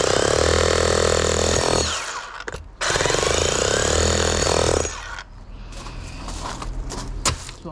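A Bosch SDS Max breaker hammers rapidly into concrete common bricks, loud and close, running in two long bursts with a short pause between, then dropping to quieter rattling and knocking.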